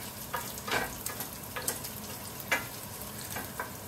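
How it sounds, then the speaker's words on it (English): Onions fry in leftover bacon grease, a close, steady sizzle broken by sharp crackles and stirring scrapes, with no talking. "We'll start our onions then. In the leftover bacon grease."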